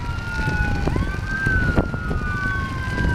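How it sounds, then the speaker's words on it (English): A wailing siren sweeps up and down continuously, loud and fairly near, over rushing wind noise, heard while riding a bicycle. "sirens are blaring"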